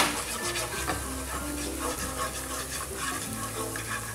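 Black pepper and cumin powder are stirred into a hot pan, making a steady sizzle with soft scraping and rubbing strokes that stay close and fairly loud the whole time, with no talking.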